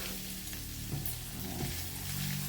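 Ingredients for Filipino pakbet sauté in a hot pan, a steady close sizzle and crackle with faint stirring scrapes and no talking.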